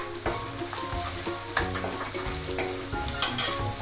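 Half a spoon each of cumin and garam masala is stirred in a hot pan for South Indian sambar, giving a continuous close sizzle and frying hiss. Periodic scrapes and taps of the spoon against the pan run through it.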